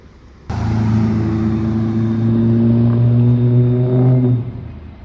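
A modified, non-stock BMW M3 roars past at a seaside car-spotting scene in Deauville, its loud, throaty engine note surging abruptly, holding strong for several seconds and then cutting away.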